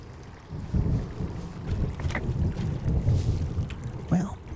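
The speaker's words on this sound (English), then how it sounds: "I like the ambience of the storms" Storm ambience from the Firewatch video game in the Wyoming wilderness, with low rumbling thunder and steady wind-like noise. It rolls on continuously with a few faint higher rustles and no clear talk.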